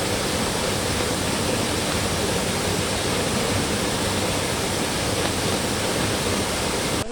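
Floodwater rushes at Madhutila eco park after an hour of rain, a loud, dense, continuous roar of churning water with no break.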